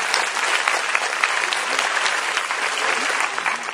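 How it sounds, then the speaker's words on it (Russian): Audience applause at a club gathering, a thick, continuous roar of many hands clapping close and loud throughout, with no voices standing out. "Аплодисменты."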